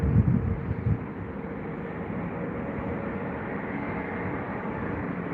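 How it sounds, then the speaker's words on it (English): Jet airliners at Heathrow, an A380 and a China Eastern 777 among them, spool up to taxi speed as a steady, broad roar that holds level throughout, with a brief rumbling gust at the start and no voices. "Literally hear them fire their engines up to taxi speed to get themselves around to the end of the runway"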